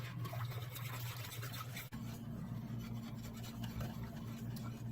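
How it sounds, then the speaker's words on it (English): A whisk scrapes and swishes through thickening gravy in a pan on the stove, a steady close rubbing sound with no speech. "Just whisk it until it gets thick, which will take 10 to 15 minutes,"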